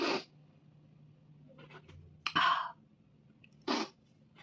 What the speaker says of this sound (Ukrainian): Ай, зараз чихну